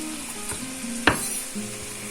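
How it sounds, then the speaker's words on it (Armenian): Onion and meat frying together in a pan, a soft continuous sizzle with a sharp utensil clink on the pan near the middle and faint stirring scrapes. "թողնում ենք սոխն ու միսը միասին տապակվեն"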